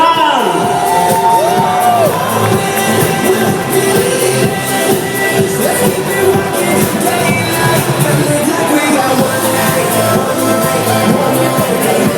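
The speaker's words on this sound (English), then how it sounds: "A big round of applause, everyone!" Loud crowd cheering, whooping and shouting fills the hall during the swimwear segment of the Mister Singapore 2013 pageant. It runs steadily throughout, with a voice calling out over the din.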